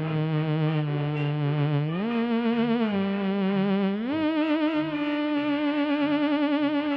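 Low, bowed cello-like tones come from a Space Theremin, held notes sliding smoothly up in steps with gentle vibrato, loud and close with no voices.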